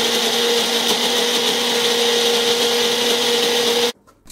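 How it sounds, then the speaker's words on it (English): An electric blender grinds ginger, garlic and lemon juice into a marinade paste with a steady, loud whirring drone for about four seconds before it cuts off. "Then blend it into a fine paste."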